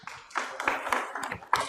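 A small group claps in uneven bursts at a hostel inauguration for research fellows in Udaipur, the applause close and irregular with sharp individual hand slaps.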